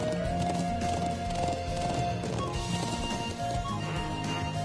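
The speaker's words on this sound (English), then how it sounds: "Let's ride our horse." Horse hooves gallop in a steady clip-clop rhythm while riding in the video game Trails of Cold Steel, continuous and fairly loud throughout, layered over constant game music.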